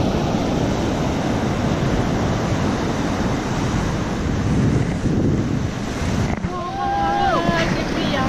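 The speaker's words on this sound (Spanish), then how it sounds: "Van a ver si van a pillar alguna ola." Ocean waves breaking at a surf beach, a loud continuous roar and wash with heavy wind buffeting the microphone. Faint high bird-like calls appear near the end.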